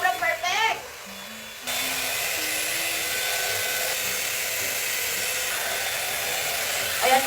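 A Stay Young 5-in-1 hair styler blower hums steadily at moderate volume, running continuously for several seconds after a brief burst of talk, with a faint click as it settles into a constant airy whir.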